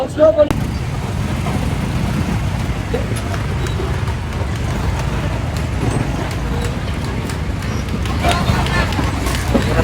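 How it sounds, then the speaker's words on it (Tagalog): Busy street traffic near Elcano Market on Recto Avenue, a dense steady roar of passing vehicles mixed with crowd babble, constant and loud throughout. "Traffic ng talaga."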